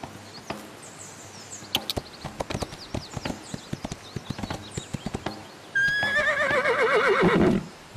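A horse in the Windstorm game galloping and jumping, with sharp, irregular hoof clip-clops followed by a loud, drawn-out whinny near the end.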